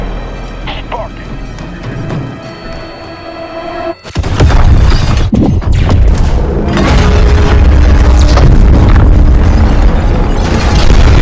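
A loud explosion in Call of Duty: Modern Warfare (2019) booms after a tense ambient stretch, followed by rumbling debris and crackling blasts that stay heavy and dense.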